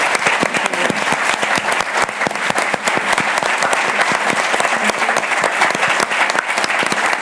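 A large audience applauds panelists at a talk on Black women's history, steady dense clapping at even loudness throughout.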